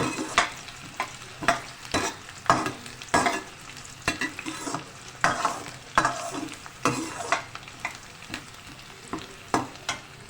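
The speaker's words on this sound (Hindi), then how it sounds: "हम प्याज डाल के फ्राई करें" Onions frying in hot oil for aloo palak, a continuous close sizzle broken by frequent scraping stirs and taps of a spatula against the pan.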